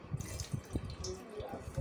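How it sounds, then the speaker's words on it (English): Potash water being poured into palm oil in a cooking pot, a faint liquid trickle and drip with soft splashy pulses, heard quietly and close with no talk over it. "Then I'll pour this potash water"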